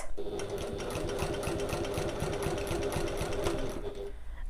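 A sewing machine runs in one continuous, rapid stitching burst while sewing a pocket, its needle chatter loud and close before stopping abruptly near the end.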